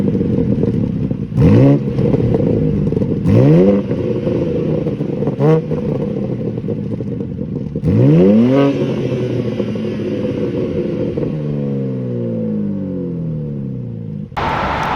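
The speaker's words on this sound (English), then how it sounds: "we'll find a clip of the BMW M3 exhaust note, and I'll play that too." A BMW M3's exhaust note, loud and close, with several sharp revs rising and falling between steady rumbling idle stretches, ending in a sudden burst.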